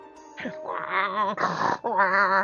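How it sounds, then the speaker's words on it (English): A collie in a story video game growls and snarls in a drawn-out, voiced rumble, close and fairly loud, in several sustained bursts with brief breaks between them. "a collie runs up to you and bares his teeth"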